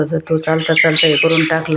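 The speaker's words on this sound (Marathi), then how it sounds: "पक्षी बघा कसे ओरडतात." Birds squawking over a soybean field, harsh repeated calls in a quick rhythm, loud and close, heard under someone talking.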